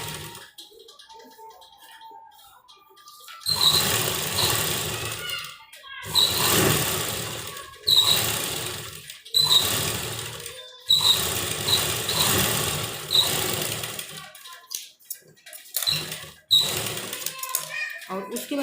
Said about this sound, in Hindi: एक सिलाई हम यहाँ किनारे पर लगाएंगे इस तरह से करके, और एक सिलाई किनारे पर लगाएंगे।